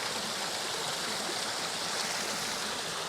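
A small triple waterfall running low with little water, giving a steady, soft, hissing rush that stays even throughout, faint and fairly close, with no voices.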